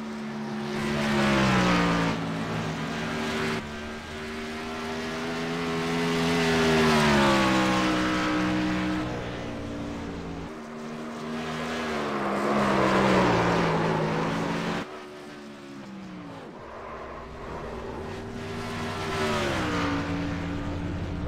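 A lone race car laps the track in qualifying, its engine note rising and falling through gear changes as it screams past, fading and swelling repeatedly at a moderate distance.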